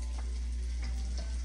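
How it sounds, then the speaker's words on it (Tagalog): Spam fries in avocado oil, giving a continuous soft sizzle with faint crackles over a low steady hum, brief and fairly quiet. "Guys, we're gonna fry the spam na"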